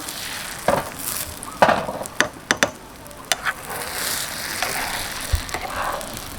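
Cha-om frying over low heat in a Thai kitchen: a steady soft sizzle with irregular scraping and clinking of a utensil stirring in the pan, no talking.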